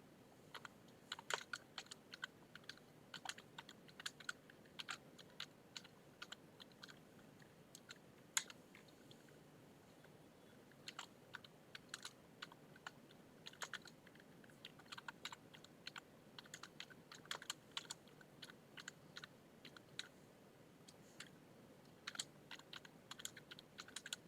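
Steady, quiet keystrokes on a computer keyboard while text is entered into Notepad, with sparse clicks and small bursts continuing for the whole stretch, no voices present.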